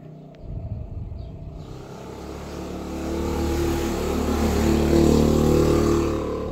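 A motorcycle engine passing outdoors, starting as a low rumble and swelling steadily louder as it approaches, a sustained droning hum without speech.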